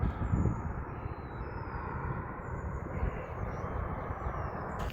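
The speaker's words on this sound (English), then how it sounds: "That's A400M, I think, isn't it? The Airbus." An Airbus A400M military transport aircraft flies overhead in East London, heard as a faint, distant low drone that stays steady for the whole stretch.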